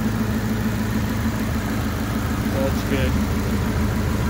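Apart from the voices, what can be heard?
homemade go-kart engine idling, fan running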